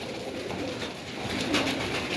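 Pigeons coo softly in a dovecote, a low continuous murmur of several birds with no talking.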